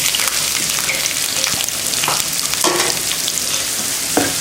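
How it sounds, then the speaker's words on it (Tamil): Onions and green chillies sauté in oil with cumin for a drumstick-leaf poriyal: a continuous crackling sizzle, close and fairly loud, broken by a few short scraping stirs. "வெங்காயம் இந்த அளவுக்கு வதக்கணும்"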